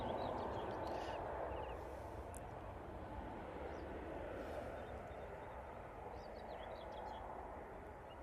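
An airliner departs from runway 05 left at Manchester Airport, heard as a faint, steady, distant jet roar and rumble that slowly fades, with no talk.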